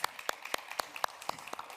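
A conference audience at the World Food Forum 2022 applauds the Young Scientists Group cohort, with distinct, evenly spaced claps standing out over a thinner patter of applause, fairly quiet and with no talk.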